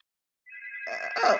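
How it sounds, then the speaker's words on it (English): An incoming call sets a telephone ringing, starting partway through and growing louder, with a tonal ring that thickens into a busier, brighter burst near the end; no one speaks. "Well, I got a phone call."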